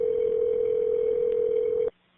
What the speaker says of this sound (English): Automated phone calls checking their progress.